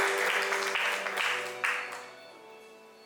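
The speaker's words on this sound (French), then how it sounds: "Donc un tonnerre d'applaudissements pour Roman et pour Bobby." Audience applause at a demo day event, dense clapping that holds steady for about two seconds and then thins out and fades toward the end.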